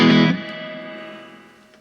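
Guitar chord played through the spring reverb of a Boss Katana Mini X amp, struck once with a loud attack and then a long, splashy decaying tail that slowly fades out.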